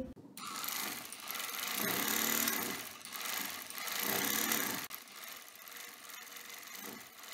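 Sewing machine stitching a fabric strip for a baby top, a fast continuous mechanical whirring in several bursts that rise and ease with brief pauses between runs, close and loud, with no talk.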